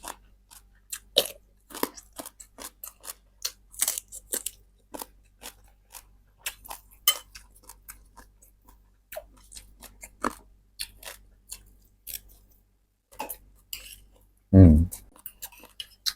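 Close, crisp chewing and crunching of reheated leftover food from the day before: irregular bites with a louder thump near the end, alongside some talking.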